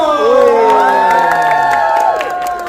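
A crowd at a film press conference cheers, whoops and shouts with high, excited voices for the celebrity Fajar Sadboy, a loud, continuous burst of cheering with little distinct clapping.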